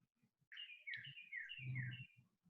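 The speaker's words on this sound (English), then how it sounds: "I hear birds." Birds chirp outdoors, faint and distant: a few quick, warbling high-pitched phrases over soft, low thumping background noise.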